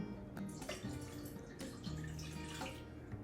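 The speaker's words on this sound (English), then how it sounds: "So I've measured out my water. I'm going to go ahead and put it in a pan." Measured water poured into a pan for an herbal decoction, a continuous quiet splashing and trickling of liquid, faint and steady with no talking.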